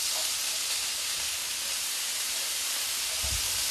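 A pound of frozen green beans hitting a hot pan, giving a loud, steady broadband sizzle that holds evenly, with a low thump near the end and no talk.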